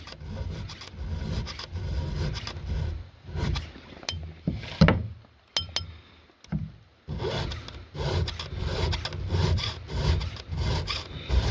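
A hand file strokes across the cutters of a square-ground chainsaw chain, producing repeated close, raspy scraping strokes in steady rhythm, with a brief quieter pause midway before the filing resumes.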